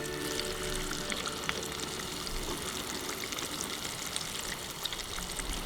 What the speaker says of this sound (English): The key to getting crispy fish, hot oil.